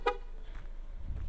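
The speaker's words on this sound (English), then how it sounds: "honk" A single short honk from the horn of a 2023 Ford Bronco Sport Heritage, loud and close at the start, followed by quiet low rumble.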